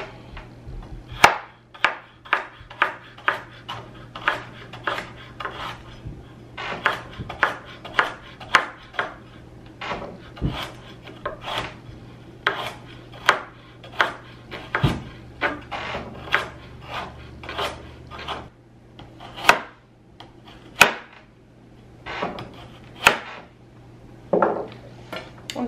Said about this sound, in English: and I'm just going to chop them